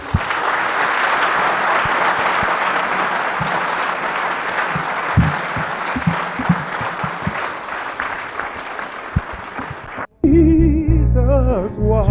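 A church congregation claps steadily in a dense, continuous wash of hands for about ten seconds at a worship service, then the clapping cuts off abruptly and music takes over.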